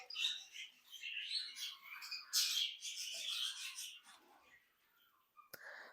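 Many small birds chirp and squawk close by in a busy, overlapping chatter, fading toward the end.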